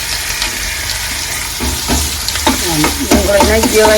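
Onion hits hot oil with garlic and chilies, a loud close sizzle that swells and crackles as it is stirred, scraping strokes punctuating the steady frying.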